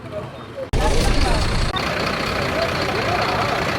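A bus engine runs loudly, stuck on a rock on a road in Ooty, a heavy continuous rumble that kicks in abruptly after a quieter start, with a brief dip midway and people talking over it.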